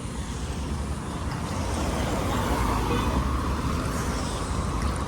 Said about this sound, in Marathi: आता आम्ही खालापूरला पोहोचलो आहे बघा आणि इथं गाडी बघा किती फास्ट